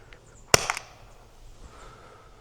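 A single sharp shot from a Umarex TR50 air revolver set to 7.5 joules, fired outdoors at an old pine tree, followed by a brief impact rattle and quiet surroundings.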